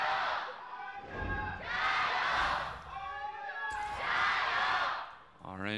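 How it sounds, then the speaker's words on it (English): A large esports arena crowd at an LPL Spring Split League of Legends match roars and cheers for RNG against BLG, swelling in loud waves with shouted voices and chants throughout. "RNG fans starting to pick up some steam, cheering on their team"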